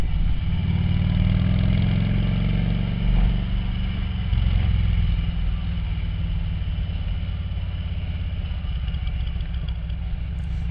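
A motorcycle is shifted into gear and ridden slowly down a street in Chatsworth, California, heading for the highway. Its steady, close, low engine drone runs throughout with slight swells in revs and no talking.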